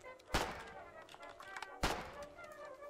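Two sharp, heavy gunshots crack out in the Foxhole war game, spaced about a second and a half apart, each with a short decaying tail over a low background.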